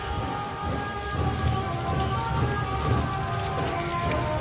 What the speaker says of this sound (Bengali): এ দেখো বাবা বৃষ্টি পড়ছে